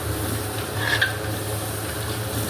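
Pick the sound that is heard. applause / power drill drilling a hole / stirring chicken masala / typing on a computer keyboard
stirring chicken masala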